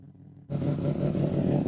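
A four-rotor drift car at a Mondello Park drifting event bursts into a loud, sustained engine roar after a brief quieter idle, the rotary howl filling the track-side air continuously.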